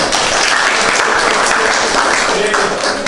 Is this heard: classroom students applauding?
yes